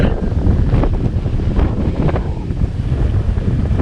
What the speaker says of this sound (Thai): ลมจะแรงมากนะครับ